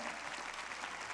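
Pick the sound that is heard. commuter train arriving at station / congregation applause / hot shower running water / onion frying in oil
congregation applause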